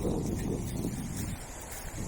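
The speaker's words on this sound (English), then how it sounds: "It's getting pretty windy and it's getting dark." Steady wind buffeting the microphone on a hiking trail at dusk, a continuous low rumble and rush with no pauses and no voices.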